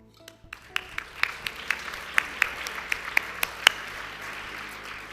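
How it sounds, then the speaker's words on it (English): Applause from the audience at an HR achievement awards ceremony, a steady wash of many hands clapping with sharper individual claps standing out, moderately loud and heard alone. "A warm round of applause"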